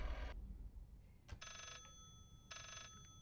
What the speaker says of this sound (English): Oh, the phone's ringing in a different place